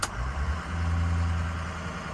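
A Ford 6.0 Powerstroke diesel truck engine holding a steady high idle, a continuous low rumble with a faint whine on top, close up after a brief click at the start.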